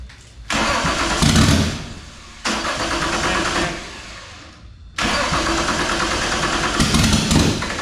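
Nissan RB engine swapped into a Holden Commodore drift car cranking hard in three long bursts with short pauses between, each loud whirring turn-over ending without the engine catching.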